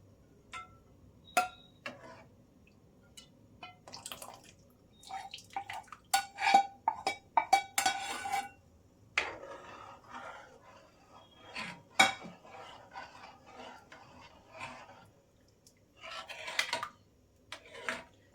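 Ghee left from frying is stirred into Kerala-style happala (papad) payasam in a pot: sporadic metal spoon clinks and scrapes against the pot, quiet and irregular, with no talking.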